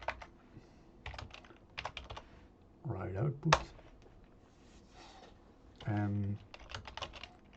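Typing on a computer keyboard while writing PowerShell code for Active Directory: bursts of quick clicky keystrokes with pauses, under a man's quiet speech.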